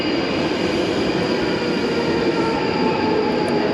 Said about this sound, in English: It's a train for Morden.